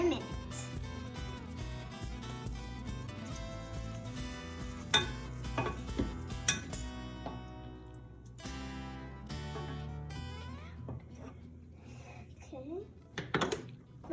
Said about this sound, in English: Just stir it every once in a while.